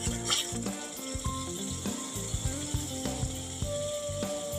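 Spice paste fries in oil for katla fish kalia, a cooking pot crackling under a busy layer of clinks and rhythmic scraping from stirring, with a faint tonal hum in the background.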